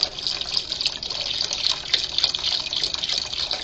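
Organic vegetable broth, a full carton of about four cups, pours steadily into a soup pot for minestrone, a continuous bright liquid splash and gurgle running evenly and close up with no pauses.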